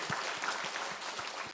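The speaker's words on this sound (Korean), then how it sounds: "우리 다시 한번 함께 영광의 박수 돌려드립시다." A church congregation at a Pentecost Sunday worship service gives sustained, even applause that fills the room. The dense, steady clapping comes at moderate volume for over a second and a half, with no one talking.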